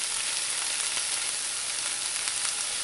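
Steady, close sizzle of chili mushroom frying in a pan on the stove with spring onion added, an even hiss throughout with no talking.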